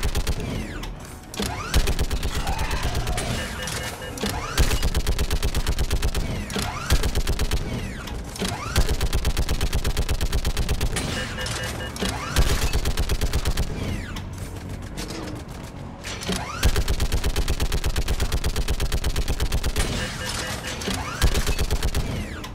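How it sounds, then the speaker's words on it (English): Rapid mechanical turret fire from the video game Mass Effect 3 at a forward operating base, a dense continuous rattle of shots running almost nonstop at steady loudness with brief pauses. "We get a little interlude where we get to use a turret once again."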